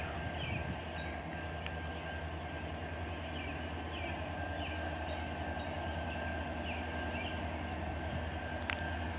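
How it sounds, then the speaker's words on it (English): A CN L501 westbound local freight train passes at night in Durand, Michigan, a distant, steady low rumble of wheels and engine with faint squeals, quiet and continuous amid outdoor ambience. "This is my first nighttime train here."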